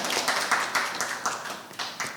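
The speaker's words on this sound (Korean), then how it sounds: "이 박수까지 나올 일이에요 이게?" Scattered audience clapping at a Korean Buddhist monk's talk, a light, uneven patter of hands with a few sharper claps standing out, fairly close and moderately loud, without voices.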